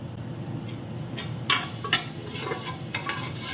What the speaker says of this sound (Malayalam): ഒരു സ്പൂൺ ജിഞ്ചർ ഗാർലിക് പേസ്റ്റ് എടുത്തു